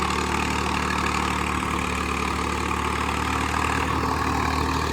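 A heavy Swaraj 855 4x4 tractor engine idles steadily and loudly, a constant low rumble with no change in pace throughout.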